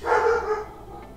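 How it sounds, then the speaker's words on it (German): A dog gives one short, loud, close bark, followed by a brief quieter tail. "Falls ihr gerade den Hund hört, der hat mal wieder gerade eine Macke."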